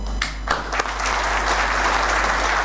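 Audience at a State Bank launch ceremony breaking into steady, close applause that holds evenly throughout.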